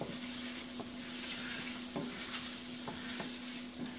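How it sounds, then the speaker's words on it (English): Onions cook in a roux in a pan with a soft, steady sizzle, and a few quiet scrapes and taps of stirring come through at a low level with no talking. "I'm going to go ahead and throw my onions in now just to get them cooked down in this roux a little bit."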